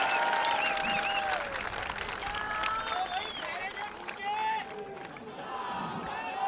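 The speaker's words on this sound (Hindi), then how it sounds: "तो एक जोरदार तालियां अपने खुद के लिए बजा दीजिएगा।" A crowd at a political rally in Aurangabad applauds and cheers, a steady wash of clapping mixed with raised voices and whistles, moderately distant throughout.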